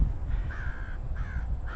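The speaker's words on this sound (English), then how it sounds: "I scared the crows from their nest." Crows caw from a trail in autumn woods, two drawn-out harsh calls a short distance away over a low rumbling background.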